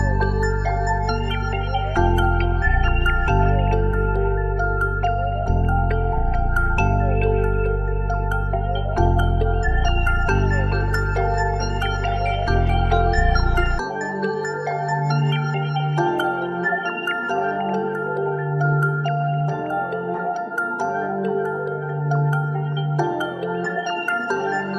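A layered synth melody built in FL Studio with the Portal effect's Disfigure and Delay preset, warped chords with echoing repeats over a deep bass part that drops out midway, leaving a thinner echoing line.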